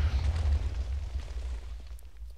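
A fragmentation missile explodes in the Voltz mod of a video game, leaving a deep, heavy rumble that starts strong and slowly fades over a couple of seconds.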